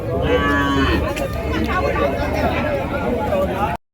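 Cattle, including bulls, call and low amid the loud crowd babble of a large rural cow market, with close voices talking throughout until the sound cuts off abruptly.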